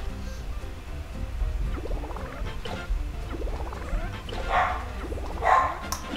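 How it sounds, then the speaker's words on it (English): A small dog whining and yipping in rising, squeaky bursts, several short whimpers spaced through the clip, faint and somewhat distant over a low background hum. "My mom got like a new dog, and it's been something."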